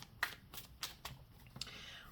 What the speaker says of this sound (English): And I'm going to do one more shuffle.